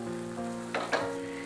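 Clam meat frying in a pan for a Kochi-style kakka irachi fry, a soft steady sizzle with a couple of brief louder bursts of spattering near the end.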